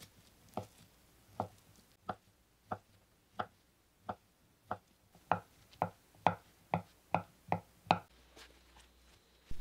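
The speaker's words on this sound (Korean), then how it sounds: "스팸을 잘게 깍둑 썰어 주세요" A knife cuts Spam into small cubes on a board: about sixteen crisp, evenly spaced chops, spreading out early, then quickening into a tighter run before stopping.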